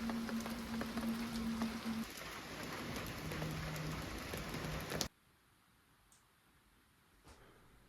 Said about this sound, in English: it finally decided to rain again